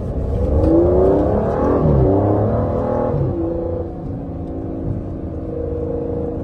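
Aston Martin V12 Vantage engine, a deep, loud, steady growl with a rising rev and a swelling, then easing tone, heard continuously and up close with no voices.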